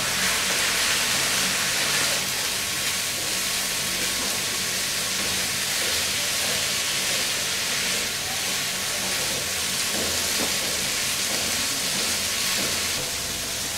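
Mixed vegetables with carrots and peas fry in a pan, giving an even, moderately loud hiss and crackle that continues steadily with no break, with no one talking.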